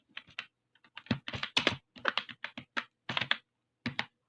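Computer keyboard typing in short, irregular bursts of clicky keystrokes, close and moderately loud, entering text into a leave-management form with no voices over it.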